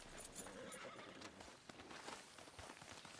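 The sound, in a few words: horse neighing in video game Red Dead Redemption 2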